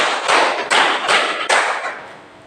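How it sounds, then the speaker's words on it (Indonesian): A classroom of standing students clapping in unison, with four loud, closely spaced bursts of group claps in a steady rhythm that fade at the end. "Tepuk 1, tepuk 2, tepuk 3, tepuk"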